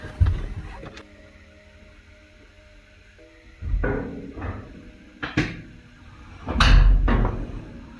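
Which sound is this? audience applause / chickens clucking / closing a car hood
closing a car hood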